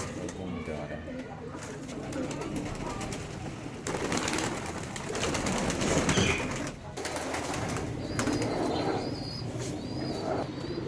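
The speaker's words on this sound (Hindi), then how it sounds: "कबूतर शाम के वक्त अपने दड़बों में जा रहे हैं।" Pigeons coo softly amid rustling and bursts of wing flapping as they return to their coops in the evening in Pakistan, with birds chirping and distant voices in the background.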